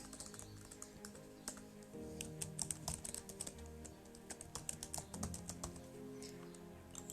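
Typing a sender's name on a computer keyboard, a steady run of close, crisp keystrokes over low background hum, with brief pauses between bursts and no talking.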